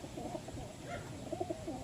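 Soft, low pigeon coos repeat in short rolling phrases, several birds murmuring close by in a coop in a quiet setting.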